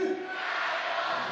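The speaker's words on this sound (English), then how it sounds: "The crowd's cheering for Wuxi again." Crowd cheering at a 3x3 basketball quarter-final in Shanghai, a steady broad roar of many voices with a brief shout near the start, sustained and fairly loud throughout.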